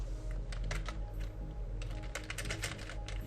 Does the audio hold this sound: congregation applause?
no